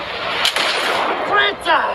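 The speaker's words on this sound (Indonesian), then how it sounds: "Wahid yang masih menyimpan dendam dengan Koro langsung bertarung hebat di tengah-tengah ledakan artileri." Artillery explosions in the Malay war film Mat Kilau give loud, rough blasts and a sustained rumble, with sharp cracks and whistling debris close by, while a voice speaks underneath.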